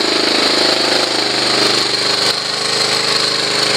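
Honda CT110 motorcycle engine idling slowly after the idle speed is wound down, a close, loud, steady single-cylinder putter with an even low pulsing beat and no voices.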